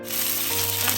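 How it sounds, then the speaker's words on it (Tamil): Mustard seeds, fennel and curry leaves sizzling in hot sunflower oil, a brief, steady, close-up frying hiss with no voices. "எண்ணெய் கொதிச்சிட்டுது, கடுகு சேர்க்கிறேன். இப்போ கொஞ்சமாக பெருஞ்சீரகம், இது கருவேப்பிலை,"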